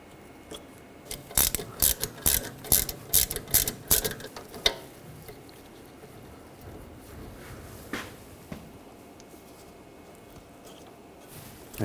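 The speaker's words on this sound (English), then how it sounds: "Using a 7mm hex socket, we're going to take these two caliper slide pins out" A ratchet on a 7mm hex socket loosening the rear brake caliper slide pins on a 2006-2010 BMW 550i, heard as a quick run of sharp clicking strokes followed by a few scattered clicks, close and fairly quiet.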